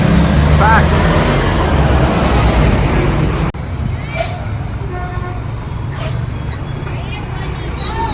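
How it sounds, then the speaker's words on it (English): Busy city street traffic with air-conditioned city buses rumbling past, loud engine and road noise close by, a horn toot early on, then a quieter stretch with passing vehicles and a voice talking over it. "Those are the modern buses they have here."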